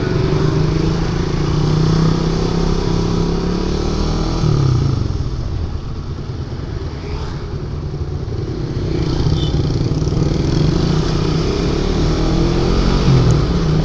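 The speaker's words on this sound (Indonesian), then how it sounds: "Gue bisa ngerasain suara knalpot gue yang berisik." A Satria motorcycle's loud aftermarket exhaust drones and reverberates through a road tunnel in Surabaya, a steady close engine roar that eases slightly midway before swelling again.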